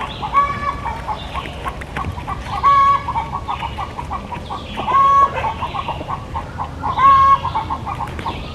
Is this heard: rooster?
yes